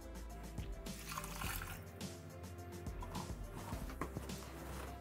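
Water is poured into a Thermomix bowl already holding rice, diced peppers, salt, pepper and stock cube for risotto, producing a faint continuous splashing and trickling close by.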